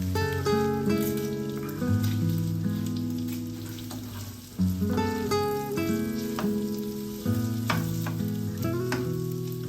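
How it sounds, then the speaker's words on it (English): Small chicken pieces sizzle and crackle steadily in hot oil while music plays along in the background. "Fry the chicken pieces in hot oil."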